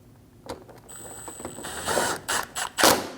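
Screws fastened along the bumper edge of a fender liner on a 2012-2022 Volkswagen Passat 2.5L: a whirring power-driver run with ratcheting clicks, ending in several sharp close clacks, without speech.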